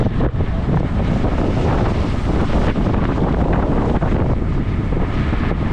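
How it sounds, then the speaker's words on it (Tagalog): Strong wind in stormy weather buffets the microphone with a loud, continuous roar and rumble, probably out on the water, steady for the whole stretch. "Galit na galit yung hangin eh."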